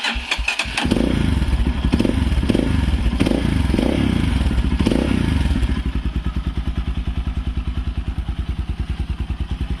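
A Forte CBA 250 enduro motorcycle with a 166FMM engine, freshly adjusted valves and a PZ30 carburetor, starting with clattering thumps, then revving loudly in rising swells before settling into a fast, even idle, heard close up with no talk.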